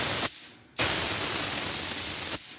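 A paint spray gun with a fan nozzle set to a wide pattern hisses in a loud, steady broadband spray, breaks off briefly, then runs again for a long continuous burst before cutting off near the end.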